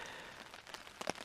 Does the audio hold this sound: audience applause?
no